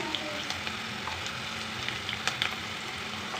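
Curry leaves sizzle faintly in hot oil while potato curry is being cooked, a soft, steady frying hiss with scattered small pops and crackles.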